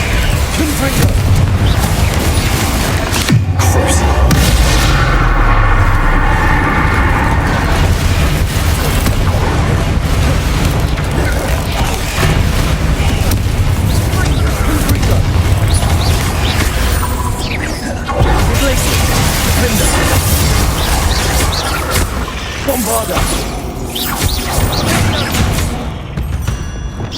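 Confringo blasting spells go off in the Hogwarts Legacy video game as repeated booming explosions in a dense, loud battle mix, with voices heard throughout.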